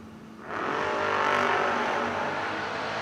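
A Fox Body Mustang drag race car with a BTE transmission and Hoosier tires, running at a $10 Grands drag racing event, sits at a low rumble, then bursts into a loud, sustained high-revving roar as it launches.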